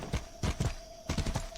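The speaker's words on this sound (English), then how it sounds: "Spawn a horse." Horse hooves clip-clop in the medieval combat game Mordhau at night, a handful of moderately loud steps in two short bursts with a brief gap between them.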